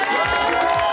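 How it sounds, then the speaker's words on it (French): Wedding guests applaud and cheer for the groom in a short, dense burst of clapping and crowd noise at a reception at the Bambouseraie de Sulauze. "On fait du bruit, on applaudit le marié."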